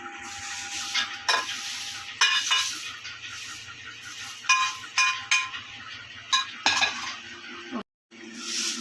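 Spice and green ponganti leaf ingredients dry-roast in a pan on the stove. A spatula scrapes and stirs them in repeated strokes over a soft, steady crackle, close and fairly loud, with no talking.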